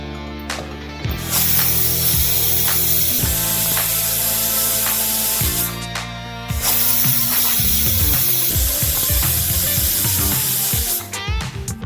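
A pressure cooker cooking moong sprouts vents steam in loud, close hissing bursts with a whistling edge, with two long blasts separated by a brief pause.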